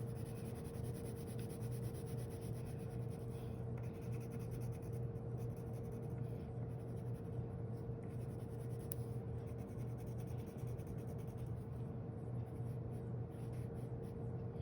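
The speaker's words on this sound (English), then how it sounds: "And then you color in the rectangle, the red rectangle." Pencil coloring in a red rectangle on paper for graffiti-style bricks, a steady, close scratching and rubbing that continues unbroken over a low constant hum, with no voices.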